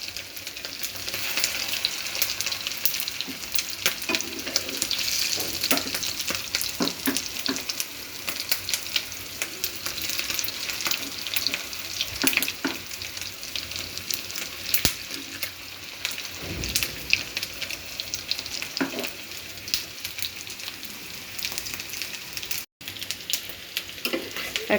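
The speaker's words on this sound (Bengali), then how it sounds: "হয়ে গেল আমার মাছের ডিম ভাজা, ডিমের কেবাব।" Fish roe chops made from boiled roe sizzle steadily in hot oil in a pan, a dense, continuous crackle close by that lasts throughout, with occasional stirring noises and no speech.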